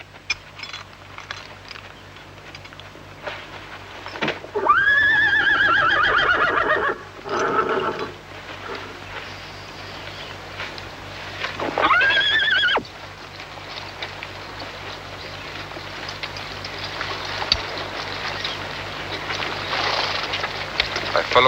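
Horses in a period battle setting, with two loud neighs and whinnies over a background rumble, followed by quieter noise with faint hoof sounds.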